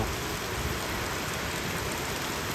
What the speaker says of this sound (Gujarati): જો મિત્રો હમણાં કરતા હોય ત્યાં ભૂક્કા કાઢે એવો વરસાદ ચાલુ થઈ ગયો.